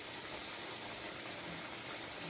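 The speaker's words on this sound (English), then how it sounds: "So now I'm gonna put about a cup of water inside and allow it to boil." About a cup of water goes into a hot pot of stew beef on the stove, giving a steady, broad hissing rush with no talk over it.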